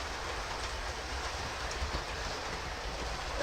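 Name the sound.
Class 43 diesel train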